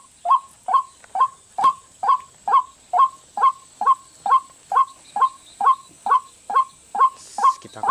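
A white-breasted waterhen lure call plays from a sound box outdoors, a loud, regular series of about sixteen identical sharp calls repeating roughly every half second, with a faint steady high hiss behind it.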